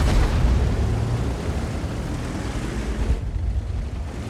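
An artillery shell explodes in a tank video game, a loud, close, broadband blast that rumbles heavily for about three seconds, then drops to a duller lingering roar.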